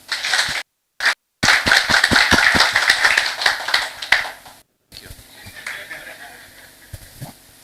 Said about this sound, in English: So you'll clap continuously until I say stop, okay?